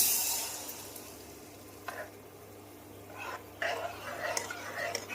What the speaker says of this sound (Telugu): చేసుకున్న చింతపండు పేస్ట్ని, వాంగీబాత్ మసాలాని ఇప్పుడైతే దీంట్లోని ఫ్రై అవుతున్న దాంట్లో అయితే వేసుకుంటున్నాను